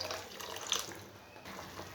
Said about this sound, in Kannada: ಇದಕ್ಕೊಂದು ಮಿಕ್ಸ್ ಮಾಡಿಬಿಟ್ಟು ನೀರು ಹಾಕೋಣ